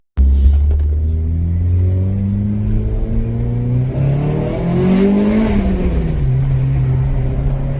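A Renault Clio RS engine revs hard while driving, its pitch climbing through the gears with a brief drop mid-run, loud and close with a deep rumbling tone and no speech.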